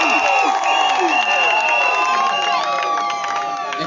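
Guests at a wedding where a man weds four brides on the same day cheer loudly, with high, ringing, sustained cries and shouts over scattered clapping, a dense crowd noise that eases slightly toward the end.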